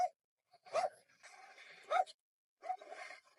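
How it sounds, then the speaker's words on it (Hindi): Dogs barking at newcomers on the grounds of a school with lawns, in Windsor Locks: three separate bursts of barking with yips, fairly close, split by short pauses and accompanied by whimpering. "वही अपना नए नए को देख के भौंकने लग जाते हैं। तो कुत्ते अपना काम कर रहे हैं।"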